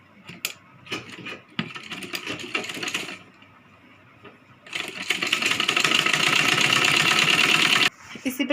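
A sewing machine stitches a Rajputi kanchali sleeve, running in short bursts at first, then falling quiet before a long, steady, louder run of rapid mechanical chatter that stops briefly and restarts.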